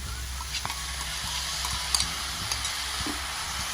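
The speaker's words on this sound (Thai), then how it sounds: "ผัดให้เข้ากันนะครับ" Mama instant noodles stir-fried with egg and mixed sauce in a hot pan, a steady sizzle under scattered scraping stirs and light knocks of the utensil, close and continuous with no talking.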